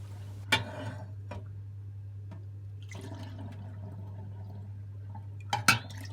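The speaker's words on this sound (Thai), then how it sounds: "แล้วเราก็เทน้ำปลาที่เรากรองได้ แล้วก็มา กรอกใส่ขวดแบบนี้นะคะ" Homemade filtered fish sauce is poured into clean glass bottles, giving a faint liquid trickle with a few sharp clinks and taps over a steady low hum, with no talking.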